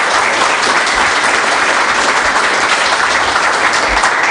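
Sustained, even applause from a conference audience after a talk, loud and close with no speech over it.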